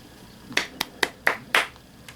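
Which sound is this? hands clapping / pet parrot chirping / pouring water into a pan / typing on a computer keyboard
hands clapping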